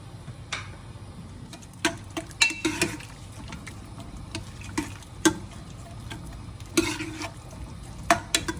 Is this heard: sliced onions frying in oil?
yes